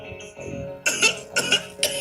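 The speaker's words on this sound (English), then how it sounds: "Oh, he's coughing." Three sharp coughs in quick succession, close and fairly loud, after a quiet stretch with faint background murmur.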